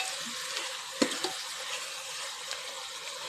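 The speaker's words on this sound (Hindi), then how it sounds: "तो इसको अच्छे से हम हिला लेंगे, ठीक है।" Masala with tomatoes being stirred in a pot while it cooks for a degi-style chicken qorma, giving a soft, continuous sizzle with a couple of brief scraping knocks near the start.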